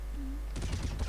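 Gunfire in Counter-Strike on the de_dust2 map during a friendly match: a burst of sharp shots begins partway through and continues loudly to the end, following a brief quieter stretch.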